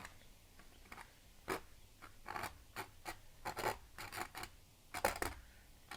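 Paint being scraped with a tool to form sticks and twigs in a landscape painting, quiet repeated short scratchy strokes in an irregular rhythm, close up, with no talking.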